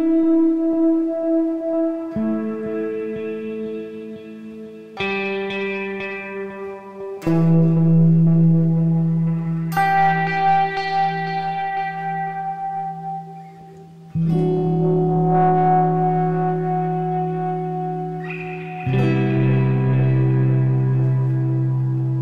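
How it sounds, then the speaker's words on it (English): Ambient electric guitar with a wah pedal filtering its delay tail, giving a slow, warping, echoing wash of sustained chords that shift in tone every few seconds, with no talking. "use it like a filter for the delay tail and create like this kind of warping sound"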